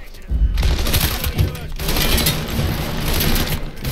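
Dense gunfire rattles in the video game Mafia 3, loud overlapping shots and bursts in a sustained fusillade close by, with a voice talking over parts of it.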